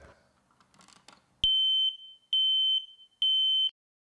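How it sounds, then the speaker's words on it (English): Smoke alarm being tested, three loud, piercing high-pitched beeps of equal length in a steady rhythm, after a brief faint rustle, with no talk. "Test smoke alarms monthly."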